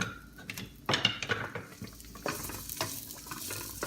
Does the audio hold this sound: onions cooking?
yes